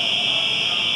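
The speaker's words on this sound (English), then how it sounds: "This is a fire alarm." A fire alarm sounds inside a prison, a steady, shrill electronic tone that holds unbroken and fairly loud throughout, with no speech over it.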